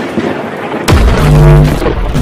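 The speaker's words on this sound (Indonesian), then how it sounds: "Ledakan kuat mengguncang kota Mykolaiv, Ukraina pada Sabtu pagi, 2 Juli 2022." A strong explosion in Mykolaiv, Ukraine, captured in news footage: a sudden loud boom hits after a quiet moment, followed by a deep rumbling tail and ringing resonance that slowly fades.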